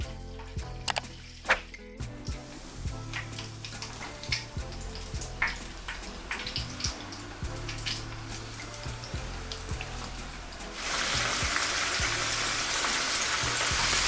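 Dense crackling and sizzling of chicken frying in hot oil, with scattered clinks early on, then a louder, steadier hiss toward the end.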